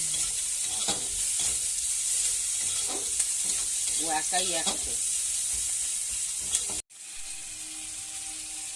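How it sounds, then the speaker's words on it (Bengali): Boiled chowmein stirred in a hot wok sizzles and scrapes steadily up close, with a brief voice talking over it before the sound cuts out and resumes as a quieter hiss. "সেদ্ধ করা চাউমিনটি এখন কড়াইতে দিয়ে দিল"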